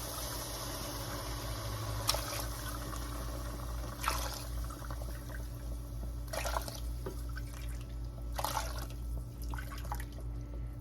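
Stock is poured into a pot of black-eyed peas with a ham hock, a steady liquid rush with a few louder splashes over a constant low hum.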